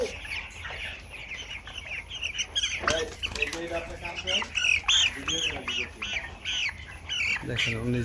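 Broiler chickens in a shed clucking and squawking, with many overlapping close-up calls that rise and fall in busy bursts over a low background hum.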